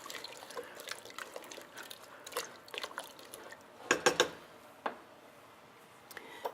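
A spoon stirs rice into soup in a pot, making faint, scattered clinks and soft liquid sloshing with a brief cluster of louder metallic taps partway through.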